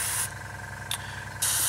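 Short hissing spray bursts on the tyres of a Tamiya 1/48 Spitfire Mk.I scale model: three close, loud blasts, one at the start, a very brief puff near the middle and a longer one at the end, with quiet pauses between.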